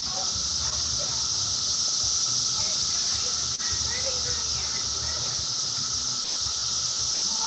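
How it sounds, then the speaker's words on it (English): Cicadas drone outdoors in early June, a steady high-pitched buzzing wash that holds unbroken the whole time, loud and even, with no talk over it. "Oh my God, it's cicadas."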